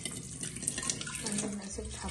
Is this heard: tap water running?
yes